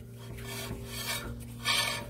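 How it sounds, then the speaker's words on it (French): Harsh, continuous scraping of a worn-through brake pad grinding metal on metal on a Peugeot 508, with rasping surges and a steady low hum underneath. "elle est complètement sur la ferraille. D'ailleurs, on entend le bruit."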